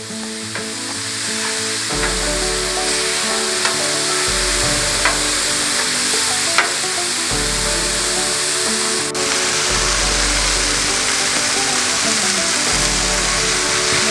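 Sausages and wagyu burger patties sizzle loudly on a grill in a continuous hiss and spatter, punctuated by a few sharp clicks and scrapes from turning the meat; no speech.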